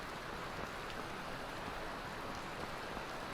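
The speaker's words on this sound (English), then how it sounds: "it's raining and it's late" Steady rain falling in the fantasy video game Skyrim at night, a continuous soft hiss of drops with no talk and no break in the downpour.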